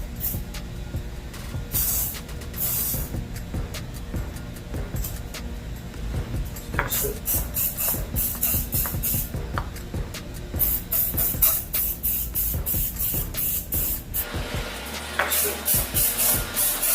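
Light coats from a G2 brake caliper paint kit hiss out in repeated short bursts and longer sprays with irregular pauses, close and fairly loud throughout.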